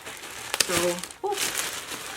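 Plastic factory wrapping on a new Coach bag crinkles as it is unwrapped, soft close rustling with brief crackles, partly under a voice speaking.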